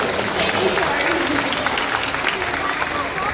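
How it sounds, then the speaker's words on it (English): A live audience at a SeaWorld Gold Coast seal show gives a big round of applause and cheers for a new Seal Guardian, dense steady clapping filling the whole moment with crowd voices mixed in. "And a massive round of applause for our new Seal Guardian."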